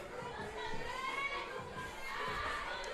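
Spectators at a girls softball game between Elkhart and New Prairie chatter and call out in a steady, moderately distant crowd murmur, with voices rising over the general din.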